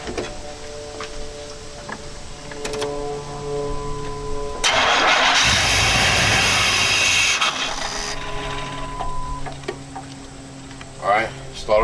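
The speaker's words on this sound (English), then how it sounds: "let me put a little starting fluid in and let's give it a crank and see if it starts on starting fluid" A Chevy K5 Blazer engine cranks on starting fluid and catches, the starter whirring before the engine fires into a loud roar that holds for a few seconds and then settles, with a voice talking around it.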